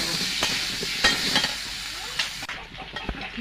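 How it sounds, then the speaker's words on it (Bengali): Pumpkin and potato pieces, seasoned with salt and turmeric, fry in oil in a pan for a vegetarian khichuri, giving a steady close sizzle broken by scattered scrapes and taps of stirring. "খিচুড়ির জন্য কুমড়ো আলু ভাজা হয়ে গেছে"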